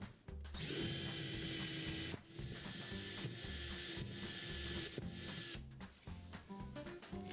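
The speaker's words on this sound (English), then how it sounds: "So what we're going to do now is drill a pilot hole" A cordless power drill drilling a pilot hole whirs steadily at close range, with a brief pause midway before resuming, then winding down toward the end.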